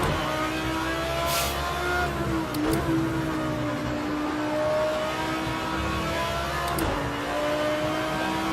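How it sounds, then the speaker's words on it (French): Audi R8 LMS GT3 race car in Project Cars 2 at Snetterton, its engine held at full throttle with a loud, steady climbing drone, broken briefly by quick gear-change dips near the middle and end. "Et maintenant gaz, full gaz."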